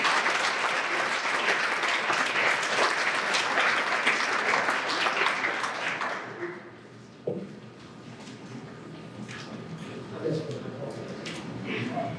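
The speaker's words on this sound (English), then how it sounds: "give all our student of the year a big round of applause." Audience applause at a school awards night for the students of the year, dense clapping that fades out after about six seconds, leaving a quieter room with scattered sounds and talk.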